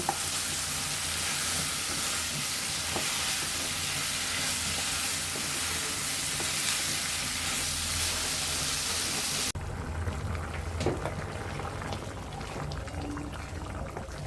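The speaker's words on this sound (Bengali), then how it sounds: "এভাবে আমি অনেকক্ষণ ধরে ধীরে ধীরে কষে নেব" Cauliflower with boiled potato sautéing slowly in a pan gives a continuous dense sizzle with occasional stirring scrapes; the frying hiss drops noticeably quieter partway through, leaving softer crackle and utensil sounds, no talking.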